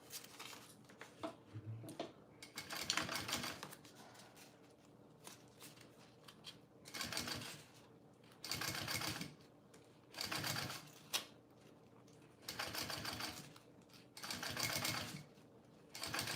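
Sewing machine running in short bursts of top stitching through two layers of webbing and fabric on a small bowler bag, with quiet pauses between each run and no talking.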